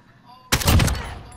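Semi-automatic gunfire in Call of Duty: Modern Warfare: a sudden loud burst of several quick shots starting mid-clip after near silence, then a ringing tail fading out.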